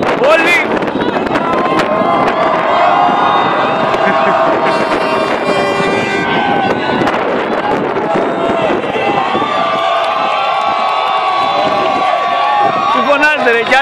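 A crowd at a school sports tournament shouts and cheers loudly and continuously, with whistles, whoops and wind buffeting the microphone, and voices calling out close by.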